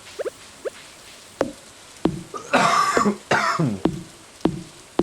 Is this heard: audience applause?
no